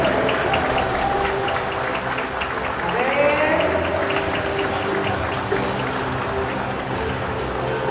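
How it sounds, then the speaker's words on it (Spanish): Spectators at a charity basketball game clap steadily throughout, a continuous loud wash of crowd applause with a few voices calling out over it. "Un aplauso para todos eles"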